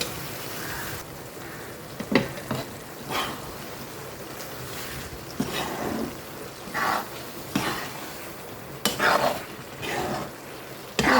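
Brinjal thokku, a spicy Tamil eggplant relish, is stirred as it fries in oil in a pan, giving repeated soft scraping strokes over a steady low sizzle, heard up close with no talk.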